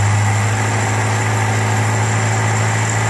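A Volvo Amazon 122s with a Weber DGEV 32/36 carburetor idles just after starting cold, a steady low rumble with constant hum, close and loud with no talking.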